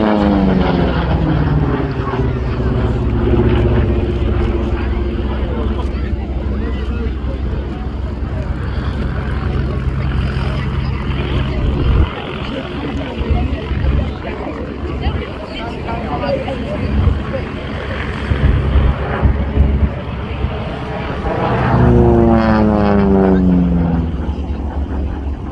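A 2,300-horsepower Pratt & Whitney Double Wasp radial engine roars as the aircraft dives at an airshow, loud and throbbing, rising and falling with pitch sweeps as it passes, with someone talking over it.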